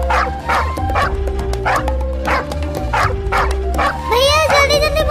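A dog in a Hindi cartoon barks in a quick, repeated series of loud yips, then ends in a rising whine while chasing children.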